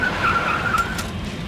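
A car in Max Payne 3 drives hard and skids, with a loud sustained tire squeal over a roaring engine, close and continuous for about a second before easing off.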